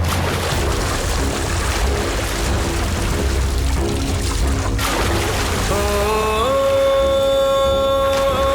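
A person is dunked into water in an action film scene: a loud, continuous rushing and pouring water noise, with sustained dramatic musical tones rising in over the last few seconds.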